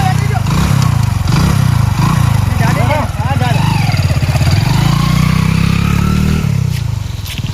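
A motorcycle engine running close by in a rural farm setting, a loud, steady putter with a slight rise in revs midway, under continuous talking.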